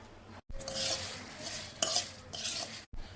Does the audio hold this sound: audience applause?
no